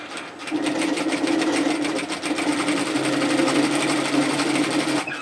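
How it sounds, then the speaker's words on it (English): A sewing machine runs steadily as it stitches rows along a dress hem, a close, continuous rapid whirring hum with only brief dips in speed. "I'm going to run 2 rows of stitches because I'm just going to mimic the look of the cover stitch machine."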